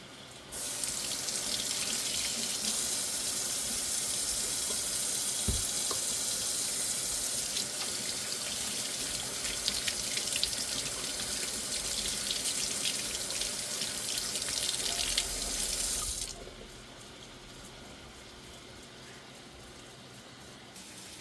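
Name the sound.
tap water running while washing hands at sink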